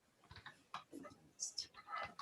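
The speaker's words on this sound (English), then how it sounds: "I'm typing in here my email address" Keys on a computer keyboard clatter in short, sparse bursts while an email address is typed in, quiet and close, with someone talking over the tapping.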